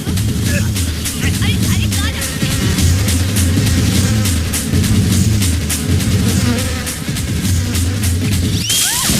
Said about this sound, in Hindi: मक्खी नहीं मधुमक्खी है